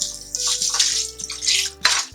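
Water pours into a cooking pot of dal and meat for shami kabab, a steady splashing gush with clinking of the metal pot, close and fairly loud, with no talking.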